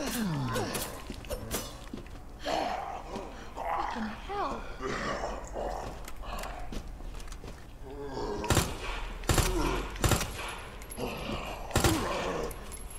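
Gunfire in the Resident Evil 2 Remake survival horror game, several sharp shots toward the end over game sounds, with people talking throughout.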